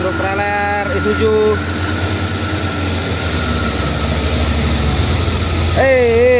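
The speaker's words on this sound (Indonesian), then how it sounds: "Ada truk trailer Isuzu." Isuzu trailer truck engine rumbling low and steady on a hillside road, with other traffic noise and horn-like tones mixed in, and voices talking over it.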